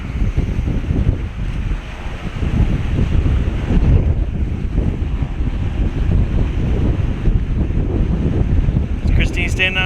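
Ocean waves crash and wind buffets the microphone at the Aruba natural bridge, a loud continuous surf roar with gusts, and voices are faintly present.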